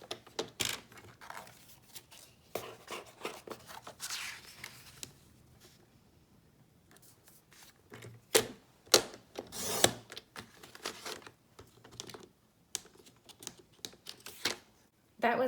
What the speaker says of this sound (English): Let's see how many pieces of cardstock we can cut at once.